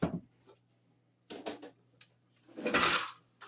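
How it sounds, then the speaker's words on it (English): Measuring cups clattering as they are pushed back into a holder in a home kitchen, a few sharp clinks and rattles in separate bursts with quiet gaps between. "So I keep all of my measuring cups in this thing."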